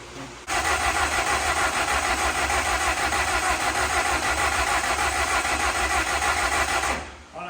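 A car engine cranks on its starter in a fast, steady whirring chug for about seven seconds, loud and close, without catching.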